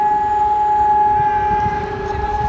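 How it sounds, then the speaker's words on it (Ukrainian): A civil defense air raid siren sounds during a test in Prague's Holešovice district near an outdoor market. It holds a loud, steady wailing tone with harmonics for the whole stretch, over low, rumbling street background. "А, сирена досі звучить."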